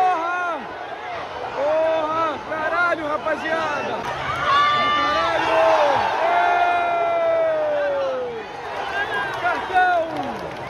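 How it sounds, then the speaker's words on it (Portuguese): A football stadium crowd at a Fluminense versus Boca match fills the air with loud sustained cheering, whoops and rising chants, dense and close, with a voice speaking over it. "Torcida aplaude."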